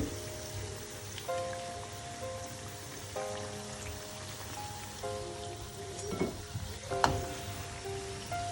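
Chana dal vadai bubble and sizzle in hot oil in a steady wash of frying noise, with a few louder clatters near the end and soft melodic tones drifting in the background.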